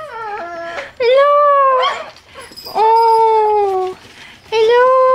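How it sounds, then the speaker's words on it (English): Puppies whimper and howl up close, drawn-out rising whines in three long bursts with shorter yips in between, loud and plaintive, with a person speaking softly in the background. "It's puppy time."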